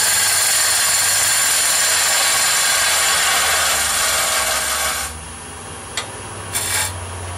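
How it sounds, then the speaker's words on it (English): A wood lathe spins while a skew chisel trues up end grain on a turning blank, giving a loud continuous rasping scrape for about five seconds, then quieter motor hum broken by two short cutting touches. "truing up the end grains with a skew"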